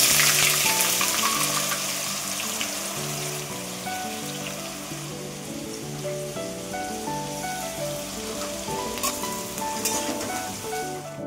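Onion paste fries in hot oil in a pan with bay leaf and whole garam masala, potatoes already fried, sizzling loudly and steadily with stirring scrapes throughout and no talking.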